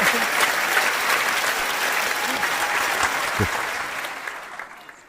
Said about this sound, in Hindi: बस जोर से ताली बजाओ भाई